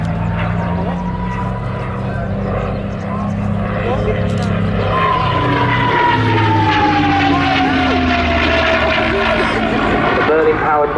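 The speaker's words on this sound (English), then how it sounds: "Merlin-powered Mustang" A P-51 Mustang with a Rolls-Royce Merlin engine flies past at a seaside airshow, a loud steady propeller drone whose pitch slides downward as it passes, with a commentator's voice over the top.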